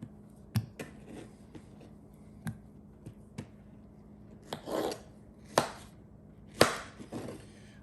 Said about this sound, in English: And then we just slice them